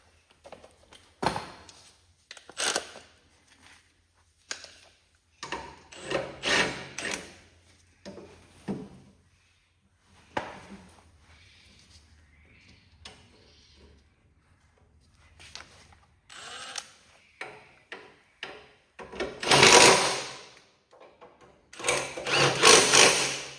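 Work on a Cub Cadet 1211 Cyclops 30mm transmission during its replacement: intermittent ratcheting and clanking bursts from tightening bolts with hand tools, separated by quiet pauses and closing with louder metallic rattles.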